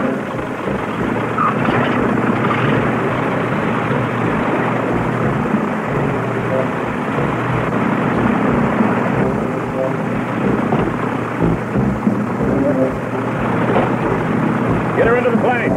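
An airplane engine drones loud and continuous throughout, with a dense rumbling roar and steady intensity, while people talk over it.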